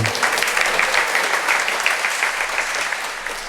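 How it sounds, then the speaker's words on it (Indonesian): Sustained applause from a church congregation at a Sunday Lenten Mass, honoring couples celebrating wedding anniversaries, a steady dense patter of many hands that gradually fades toward the end. "Dan terlebih untuk pasangan yang berulang tahun perkawinan, untuk mereka tepuk tangan."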